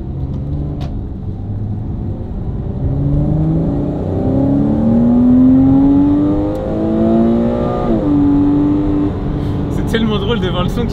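A Porsche Cayman R prepared for track use revs its rear-mounted engine and climbs in pitch several times, a rising whine over a steady low rumble, heard from inside the car.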